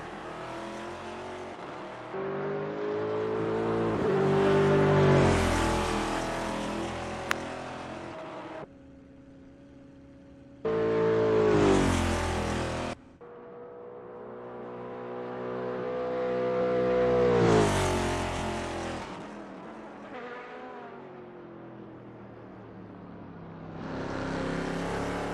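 GT1 race cars lap Mugello in Assetto Corsa, with loud engines revving up through the gears, sharp cuts on shifts, a brief quieter lull, and repeated climbs to high-pitched acceleration.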